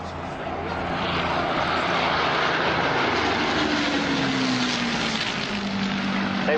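A Supermarine Spitfire photo reconnaissance aircraft flies past at the Shoreham airshow. Its engine drones loud and steady, and a falling pitch sweep near the end marks it passing overhead. Faint commentary runs beneath.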